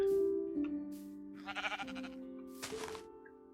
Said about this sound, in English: Hello, brown sheep.